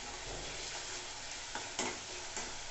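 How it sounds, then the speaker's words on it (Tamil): Prawn thokku masala sautéing in a pan, a soft, continuous sizzle with a few scraping stirs of the spoon near the end, fairly quiet and without talk. "பச்சை வாசனை போகிற அளவுக்கு நல்லா வதக்கிக்கலாம்"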